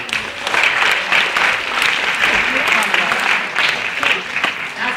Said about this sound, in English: One more round of applause for our great